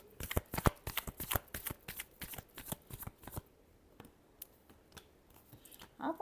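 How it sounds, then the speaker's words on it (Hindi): Tarot cards being shuffled by hand, a rapid flurry of crisp close riffling snaps that thins out into scattered soft card flicks, with a brief quiet voice near the end. "Last shuffle."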